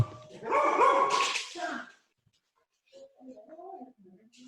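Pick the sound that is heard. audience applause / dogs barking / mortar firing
dogs barking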